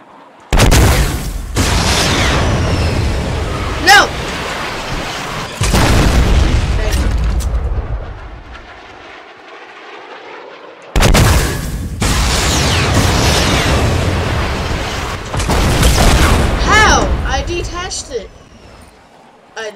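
Guided missile explosions in Fortnite, a series of loud booming blasts, several big bursts with rumbling tails separated by brief quieter gaps, with people talking between them.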